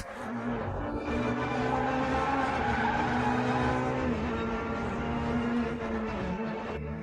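A race car brakes hard with a sustained, loud tire squeal and skid over engine noise, holding steady for several seconds before easing off.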